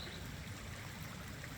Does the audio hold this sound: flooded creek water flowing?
yes